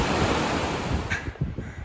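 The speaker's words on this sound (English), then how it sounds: "This is the mighty Dukosi River." The Dudh Kosi river rushes in a constant, dense roar of broadband water noise on the Everest trek, near and steady, with faint wind buffeting and no voices.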